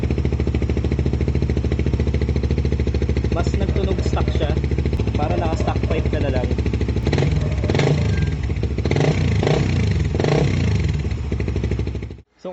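A Suzuki GSX 150 motorcycle with a Vmax muffler and DB killer idles and revs up close, a steady loud exhaust drone with clattering bursts of throttle, someone talking over it.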